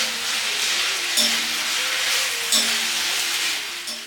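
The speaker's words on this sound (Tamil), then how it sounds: "இப்போது இந்த உருளைக்கிழங்கு அந்த எண்ணெயிலேயே நல்லா வதக்கிக்க போகிறோம்" Potatoes sautéing in hot oil with curry leaves give a steady close frying hiss and sizzle, with a couple of brief stirring scrapes and faint tonal hums underneath, no voices.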